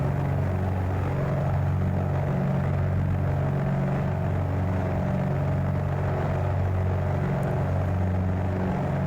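Airliner on final landing approach in Microsoft Flight Simulator 2020, a steady droning engine hum with low tonal rumble held evenly throughout, no talk.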